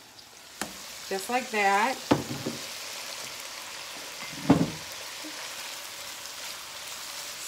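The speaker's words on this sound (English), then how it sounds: "I'm gonna keep sauteing that up a little bit" Rinsed keto noodles sizzle and fry softly in a pan, a quiet continuous crackle with a few clinks of stirring, while someone talks briefly over it.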